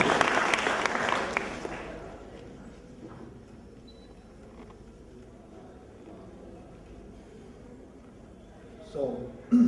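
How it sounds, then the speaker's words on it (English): Audience applause at an entrepreneurship development program in a college hall, a loud burst of clapping in the first couple of seconds that fades quickly into quiet room noise, with a brief thump near the end. "Can we please hear a big round of applause for Satyanarayana, sir?"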